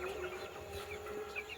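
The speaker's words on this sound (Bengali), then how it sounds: "এখন মুরগিগুলোকে ছাড়বো" Domestic chickens clucking softly at a farmyard coop just before being let out, with scattered short clucks over a quiet, steady rural background and no talk.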